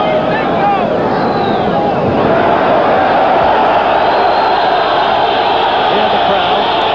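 Boxing match crowd noise for Nino Benvenuti versus Luis Manuel Rodriguez, a dense, steady roar of spectators with a broadcast hiss running the whole time, no break.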